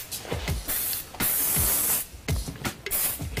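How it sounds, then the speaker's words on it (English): Hairspray misted onto styled pin-curled hair in a salon, several short hissing bursts and one longer continuous spray, close and fairly loud, no talking. "you can apply the hairspray onto the hair and it won't make the hair too sticky"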